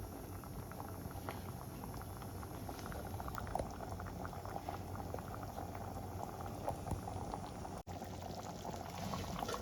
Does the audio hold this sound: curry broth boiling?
yes